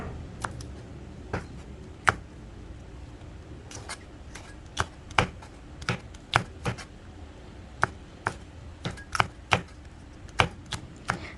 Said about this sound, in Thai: มาหั่นผักบุ้งกันค่ะ